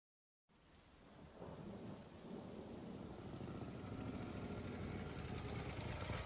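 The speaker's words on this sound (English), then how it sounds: "it's raining cats and dogs out there" Heavy rain and a thunderstorm outside: a dense, roaring downpour begins suddenly, swells and holds steady with low rumbling throughout, with no voices.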